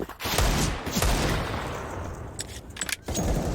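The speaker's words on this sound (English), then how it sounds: "An easy headshot on the M4." Rapid M4 rifle fire in Counter-Strike on the Vertigo map during a DreamHack tournament match, a dense, loud burst of shots running through the whole stretch with short gaps and no talking.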